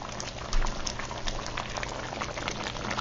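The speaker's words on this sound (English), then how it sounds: "Look at how good that's bubbling." Chicken curry bubbles steadily in a pot on the stove, a dense, continuous simmer of popping bubbles heard up close with no talking.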